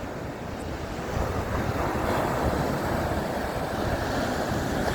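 Ocean waves break on a sandy beach during a Onewheel ride, making a steady, full roar of surf mixed with heavy wind buffeting the microphone throughout, with no talk.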